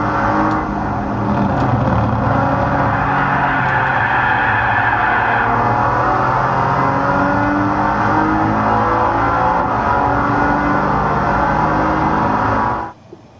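Race car engine in Gran Turismo 5 Prologue, a loud continuous in-car drone with rising and falling revs and heavy bass, holding steady throughout before cutting off abruptly at the end.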